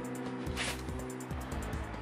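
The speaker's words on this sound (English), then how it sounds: "we're going to take this guy and use the buffing wheel" A buffing wheel spins against a spark plug, a motor-driven hum with repeated rising and falling whirring pulses as the part is pressed and eased, close and steady over a couple of seconds, with no speech.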